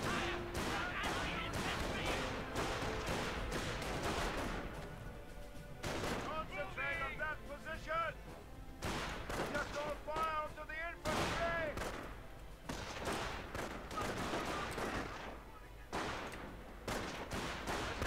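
Gunfire in the tank combat game Panzer Elite as enemy forces attack a petrol depot: bursts of rapid shots and booms in clustered volleys, with radio-style voices talking between them.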